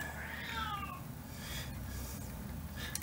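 A house cat meows indoors in a few faint, drawn-out cries, the clearest near the start and another near the end, over a constant low background hum.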